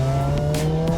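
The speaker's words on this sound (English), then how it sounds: "That's the supercharger whine." A supercharged Lotus Elise emits a steady high supercharger whine over its engine drone, heard close and loud from inside the car with a fitted Stage 2 exhaust.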